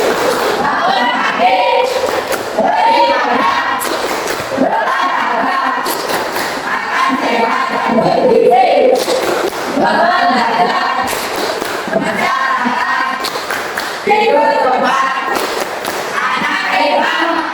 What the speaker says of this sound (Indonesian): Tepuk tangan hebat.